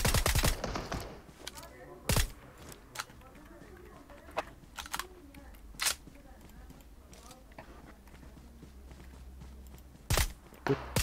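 Gunfire in PUBG Mobile comes as sharp, separate shots and short bursts spread through the stretch, over a low background hum, while someone talks in between.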